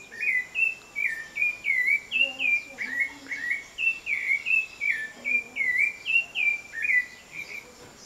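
A rufous-bellied thrush sings a repeated series of clear, warbling whistled phrases in a steady rhythm, close and distinct, with faint chirping in the background.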